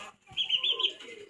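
Chickens kept indoors in a house, alongside pigeons, give a short run of high, chirpy clucks and peeps, faint and close, in just over a second.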